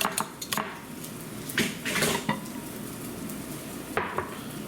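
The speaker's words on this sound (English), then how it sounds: "You can break up this bacon." Cooked bacon being broken up in a pan for a breakfast casserole, a utensil clattering and scraping against metal in quick irregular knocks, then quieter scraping with a final pair of clinks.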